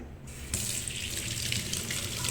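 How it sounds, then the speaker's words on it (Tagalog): Running tap water splashes steadily over white tambis fruit held under the faucet, a continuous close, bright rushing stream that starts abruptly and carries on with no talking. "May mancha pa. So, hugasan muna natin."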